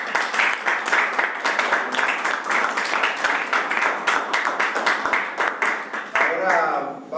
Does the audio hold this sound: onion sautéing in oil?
no